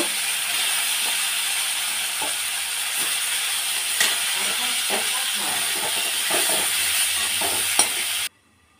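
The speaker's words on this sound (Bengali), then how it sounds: "এখন আমি ফুলকপি ভেজে নেব।" Pieces of cauliflower fry in oil in a pan for a katla fish curry with turmeric, making a loud, continuous sizzle close by. Occasional stirring knocks and scrapes sound throughout, and the sound cuts off abruptly near the end.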